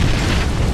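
Frag grenade explosion in the video game PUBG, a loud, dense blast that fills the whole short moment with rumbling, broadband noise.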